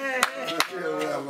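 Hands clap three times, sharp and close, over a voice during a behind-the-scenes moment with a band.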